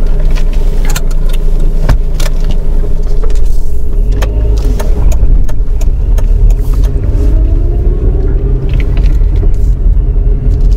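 A 2006 KIA Spectra pulls away and begins to drive, its engine rumble steady and loud from inside the cabin, with low road noise and a few clicks and knocks over it, and no talking.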